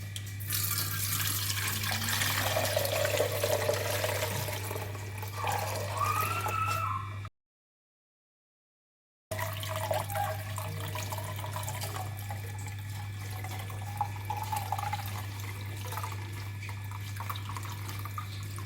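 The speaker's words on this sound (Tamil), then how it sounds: "இது பாருங்க, 1 லிட்ரு ஜக்கு, ஒரு டிஃபன் பாக்ஸு, அதில் ஊற்றி வைக்கிறேன்." Homemade ghee pours from a one-litre jug into a tiffin box as a steady liquid trickle with a low constant hum beneath, briefly interrupted by a gap of silence before the pouring resumes.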